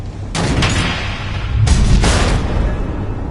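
Missiles explode in Batman: The Enemy Within, two heavy blasts with booming rumble, the second stronger and lingering, loud and close.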